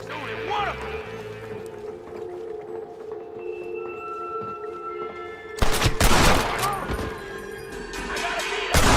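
Gunfire in the Western video game Red Dead Redemption starts partway through as a loud, dense volley of rapid shots over a steady background of game music and ambience.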